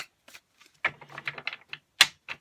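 Tarot cards are shuffled close up in quick papery riffles and flicks, a rapid run of crisp snaps with a few separate slaps afterward, no talking.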